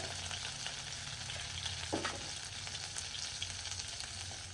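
Cumin seeds sizzle in hot oil in a home kitchen, a dense continuous hiss of frying at moderate level, with one brief scrape partway through and no voices.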